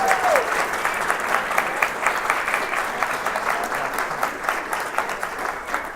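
Wedding guests at a spiritual ceremony giving a round of applause, a dense, even patter of many hands clapping for several seconds, close and steady, with a short whistle at the start and no talk.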